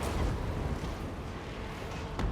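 Skull cannons open fire in a Total War: Warhammer 3 battle, a dense, continuous rumble of distant booms and blasts layered over constant battlefield noise, with a sharper crack near the end.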